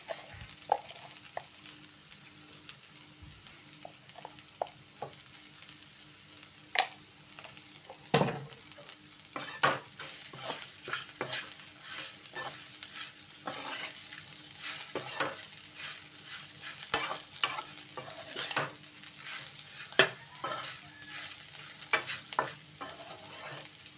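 Okra sizzles softly and steadily in a pan while a spoon stirs it, scraping and tapping the metal in irregular clusters of clicks, with no talk.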